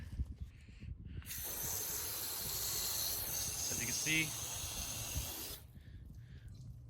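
Continuous loud hiss of water spraying onto a car hood and fender for about four seconds, starting and stopping abruptly, with someone speaking briefly before and after the spray.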